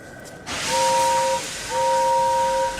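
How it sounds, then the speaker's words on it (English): A steam locomotive whistle sounds over a loud rush of hissing steam, in two long, steady blasts with a short gap between them. "At last Gordon heard the whistle."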